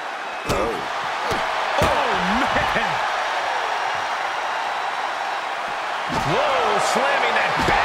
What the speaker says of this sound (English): Slamming that bat down as hard as possible.